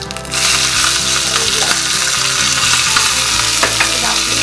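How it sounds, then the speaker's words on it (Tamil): Mustard seeds, fenugreek and dried red chillies fry in hot oil as a tempering for rasam, giving a steady, loud, close sizzle with crackling pops throughout, no voices. "மிளகாய் இது அப்படியே பொரிஞ்சிட்டு இருக்கும் போதே"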